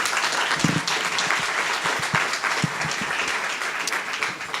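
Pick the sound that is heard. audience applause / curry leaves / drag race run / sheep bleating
audience applause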